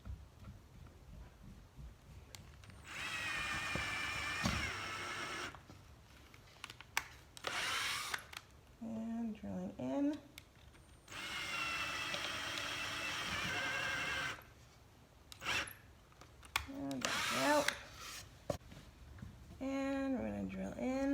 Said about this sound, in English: We're drilling in, making sure we're as lined up as we can be.